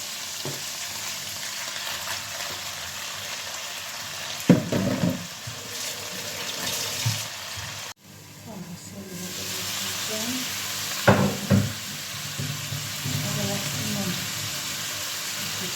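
Black lung being stirred in a hot frying pan, with a steady sizzle and two louder bursts of scraping and sizzling as pieces are added and moved around.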